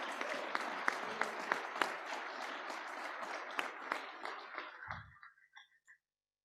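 A school auditorium audience claps for Boise High Century Scholars at a 2022 Rotary scholarship program, with distinct hand claps in a steady patter that thins out and stops near the end.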